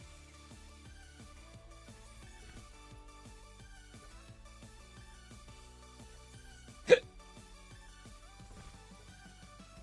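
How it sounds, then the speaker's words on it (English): A single short hiccup from a person sits amid faint background music, one sharp isolated burst near the end. "Apologize if you could hear me hiccup there."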